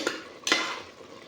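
Raw rice poured into a pot of chickpea pulao base and stirred, giving two soft scraping, rustling bursts of utensil against cookware, close and fairly quiet.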